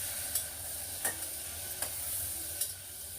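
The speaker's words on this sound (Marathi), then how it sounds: "बघा चांगलं हलवून घ्यायचं आता हे." Bombil fish, potato and brinjal with asafoetida frying in a pan, a soft steady sizzle punctuated by four evenly spaced scrapes of a spatula as the mixture is stirred.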